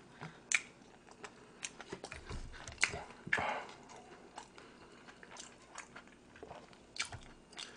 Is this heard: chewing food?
yes